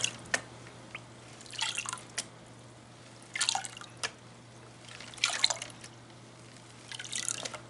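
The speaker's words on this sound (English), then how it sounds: "I'm just going to let the water lap it off the shore" Shallow water laps and sloshes in a gold pan at the shoreline, coming in soft irregular bursts of splashing and dripping separated by quiet gaps, close by with a steady low hum underneath.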